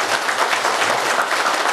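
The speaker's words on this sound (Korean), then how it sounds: "다시 한번 박수 부탁드립니다." Audience applause at a Buddhist gathering on Jirisan: a brief, dense, even burst of many hands clapping throughout, with no pauses.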